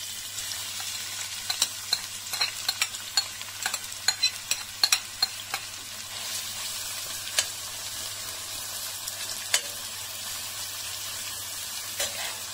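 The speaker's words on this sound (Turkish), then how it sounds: "Hemen soğanları kavurmakla beraber başlıyoruz" Onions sautéing in sunflower oil in a pan, a soft steady sizzle broken by frequent scraping stir clicks, busiest early on and thinning toward the end, close by and fairly quiet with no talking.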